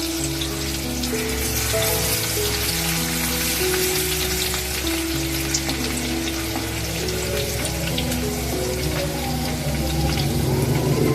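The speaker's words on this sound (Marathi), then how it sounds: "तेल गरम झालंय आता आपण हे लसूण जो ठेचलेला तो टाकूया" Crushed garlic sizzles in hot oil in a pan, a steady loud crackling fry that carries on without pause, with no talking.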